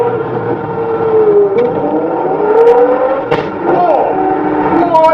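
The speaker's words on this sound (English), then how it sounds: "The sound of that V12 with the pumps" A Lamborghini Centenario V12 engine revs and roars continuously in London, pitch sweeping up and down with throttle, loud and close, with sharp pops between surges.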